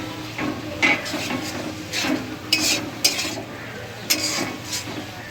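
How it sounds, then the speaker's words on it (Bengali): Spice paste stirred and fried in a pan for a Bengali-style chicken curry, with repeated scraping and clinking of a spoon against metal over a low sizzle. "এখন আমি মশলাটাকে ভালো করে এখন কষে নেব, তেল বেরোনো পর্যন্ত।"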